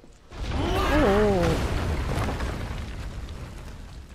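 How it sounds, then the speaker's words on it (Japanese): Explosions rumble in Final Fantasy VII Remake: a deep, sustained roar with creaking, groaning mechanical tones that swells loudly and then slowly fades. "爆発止まらねえな。"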